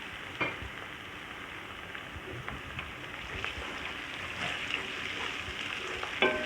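Garlic and ginger frying in oil in a pan for achari daal, a steady close sizzle with occasional stirring scrapes and pops and no talking.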